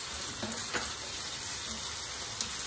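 Chicken lollipops frying in a pan with Schezwan sauce, dark soy sauce and tomato ketchup, a steady soft sizzle with light scraping stirs, close and moderately quiet.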